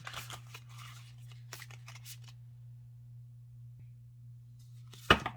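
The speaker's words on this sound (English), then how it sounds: "Shuffle these a little bit here. I do love that sound." A deck of cards being shuffled by hand in a quiet room, a few short papery riffles in bursts with a steady low hum underneath and a sharper final riffle at the end, no speech.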